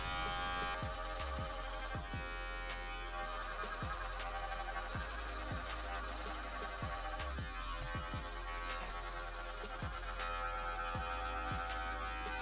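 Electric hair clippers fitted with a number two guard buzz steadily through a home self-haircut fade, with soft low bumps recurring every second or so as they pass through the hair.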